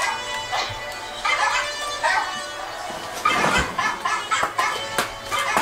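Dog barking from a played dog video, a run of yips, whimpers and sharp barks at close range, repeating irregularly with short pauses between them.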